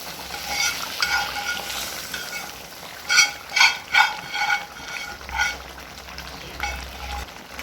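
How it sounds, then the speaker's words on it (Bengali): Onions are added to chicken frying in a pan for chicken do-pyaza, bringing a steady sizzle with a burst of rhythmic spatula scraping and stirring in the middle, close up. "এবার এর মধ্যে আমরা দিয়ে দিচ্ছি পেঁয়াজটা।"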